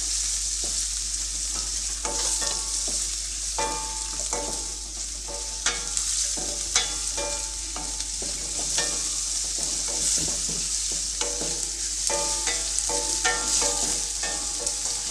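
Finely chopped medium onions frying in a pan, a continuous close sizzle punctuated by repeated metallic stirring scrapes and clinks of a spoon against the pan, with a low steady hum underneath.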